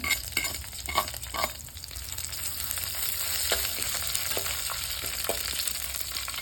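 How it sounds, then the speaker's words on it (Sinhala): Dried chili pods go into a hot frying pan and get stirred, with a steady close sizzle and several scraping stirring strokes, loudest at the start, then a continuous fry that carries on without talk. "අපි දැන් දාමු මේකට මිරිස් කරල් ටික"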